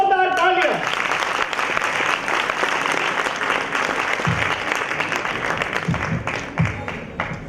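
An audience at a university induction programme applauds with dense, sustained clapping that stays even throughout, after a brief tonal sound at the start.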